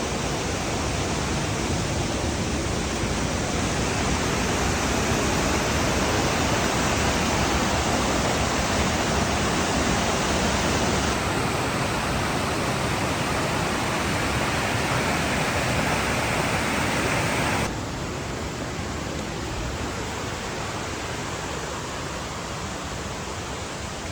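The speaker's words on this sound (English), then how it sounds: "So there's another waterfall" A waterfall at Cloudland Canyon roars as a steady, dense wash of rushing water, loud and close throughout, with no voices.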